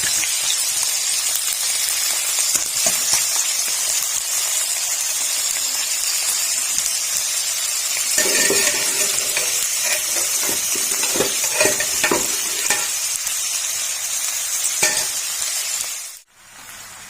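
Beef nalli masala with tomato and yogurt fries in a pot, giving a steady close hiss and sizzle with scraping stirs in the middle, then a sudden drop near the end.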